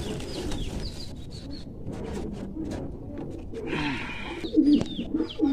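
A rare female pigeon in a pigeon loft gives low, soft coos near the end, amid faint chirps and rustling from other birds nearby.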